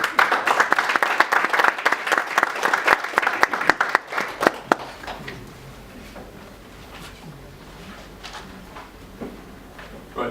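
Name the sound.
audience applause welcoming presenters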